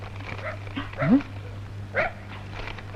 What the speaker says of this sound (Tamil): நாய் சீசர் கொலையாளியை கண்டுபிடிக்க இருந்து விரைந்து வருகிறது